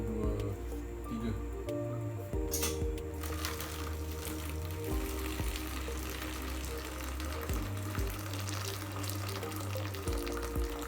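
Liquid is poured during a first-law-of-thermodynamics lab experiment, giving a soft, wet trickling and bubbling texture under faint mechanical tones, fairly quiet and close.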